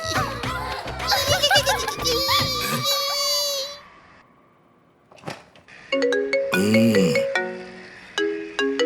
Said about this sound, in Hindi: इतने में आपका फोन आ गया।